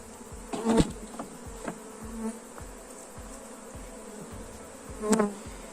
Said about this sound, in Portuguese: quando a gente está fazendo um manejo em uma colmeia